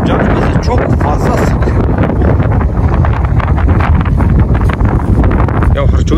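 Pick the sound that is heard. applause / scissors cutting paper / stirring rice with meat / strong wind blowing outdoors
strong wind blowing outdoors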